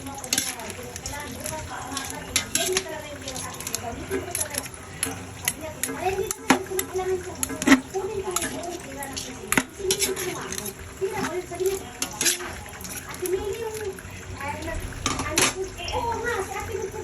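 Pancit canton noodles are stirred in a pan over the heat, with scraping and clinking of utensil against cookware and faint sizzling, while children chatter and play nearby throughout.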